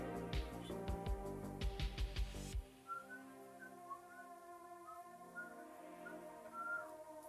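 Someone whistles a short, wavering melody, heard after a burst of louder music fades, the whistled notes thin and mid-distance.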